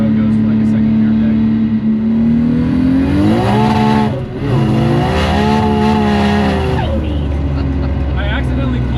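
A twin-turbo Nissan 370Z pulls hard in second gear, its engine note rising steadily loud and near, dipping briefly at a shift around the middle, then climbing again under a voice talking.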